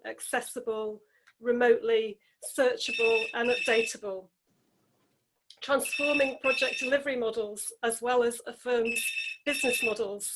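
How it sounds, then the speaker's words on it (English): A phone rings in the background during an online presentation on digital project delivery, its repeated electronic ring showing as bright high bursts under continuous close speech, with a brief pause in talking near the middle. "So apologies if you can hear ringing in the background."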